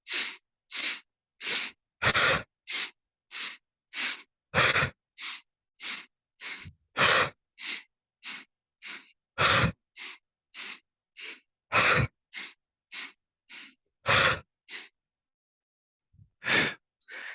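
Rhythmic breathing drill in a hatha yoga class, with a steady run of short, sharp breaths of even pace and several heavier, louder exhales scattered among them, close and clear with no talk.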